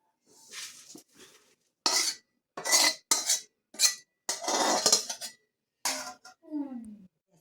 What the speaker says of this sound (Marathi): आता आपण याला एका बाजूला एका मोठ्या कढईत काढून घेणार आहोत.